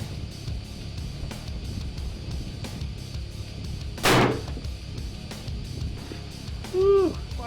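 A single sharp rifle shot during an elk hunt on public land cracks out loud and close, then rings off briefly, with a faint whistling call following a few seconds later over outdoor background noise.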